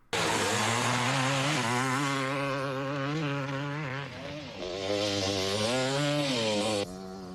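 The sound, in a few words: old dirt bike riding in the film Pumpkinhead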